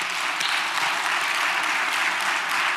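A church congregation claps in welcome for a baby attending its first worship service, giving a dense, steady round of applause from many hands that fills the room for a few seconds without any voices.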